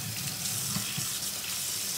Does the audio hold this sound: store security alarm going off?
no